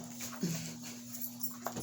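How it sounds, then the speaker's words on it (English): A dog gives a brief whimper, with a few soft whines and small yips heard faintly over a steady background hum, no speech. "Hey, and she brought the dog."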